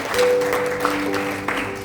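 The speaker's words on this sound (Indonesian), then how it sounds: "Kita tepuk tangan untuk Tuhan, saudara." A church congregation at a Sunday service in Sudiang, Makassar claps in a brief, dense burst of applause, with a sustained musical tone running underneath.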